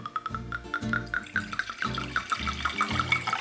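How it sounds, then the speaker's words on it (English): Wine glugs from a freshly opened bottle into a glass in a steady rhythmic series of gurgling pulses, close up and clear with no talking. "I'm gonna pop these wine bottles open and pour them into two different glasses"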